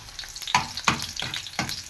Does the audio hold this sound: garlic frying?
yes